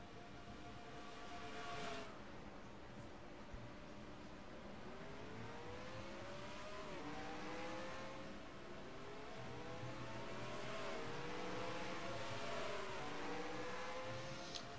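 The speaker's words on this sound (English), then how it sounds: "A lot of these cars coming in." Race cars roll along pit road in a NASCAR-style racing video game, several engines droning and revving at once with pitch swells as cars pass close by, a steady loud motor roar throughout.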